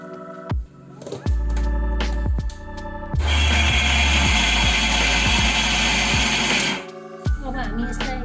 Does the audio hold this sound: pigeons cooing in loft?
no